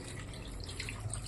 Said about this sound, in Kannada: ಬೇಕು ಅನಿಸುತ್ತೋ ಅಷ್ಟು ನೀರು ಹಾಕೊಳ್ಳಿ